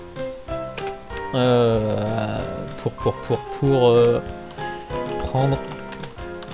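Keyboard keys click in quick, irregular taps beneath someone speaking French, the clatter running through the pauses between his phrases.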